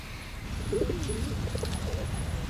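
Pigeons coo softly in a few short, low warbling calls over steady outdoor background noise in Rome, with no talk in between.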